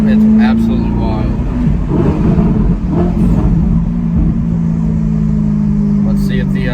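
A C8 Corvette pulls hard and shifts up from the cabin, a loud steady engine drone with brief pitch drops at each gear change, under continuous road and wind roar.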